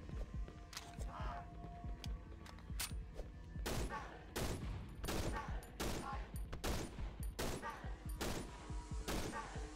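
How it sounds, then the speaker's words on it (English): Weapon fire in the horror game Cry of Fear, a series of sharp, loud shots in irregular bursts with brief gaps, close up, with faint voices in the background. "Oh, I'm so good at firing my weapon."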